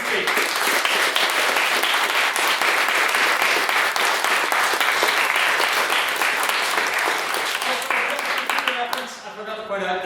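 Sustained, loud applause from a debate audience after a speech on repealing the Eighth Amendment, dense clapping with some voices mixed in, fading toward the end.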